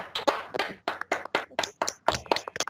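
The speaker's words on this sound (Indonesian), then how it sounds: "Please kita beri tepuk tangan yang meriah untuk Yusril." Students in an online class clap in quick rhythmic bursts, sharp close hand claps repeated steadily in short groups through the moment.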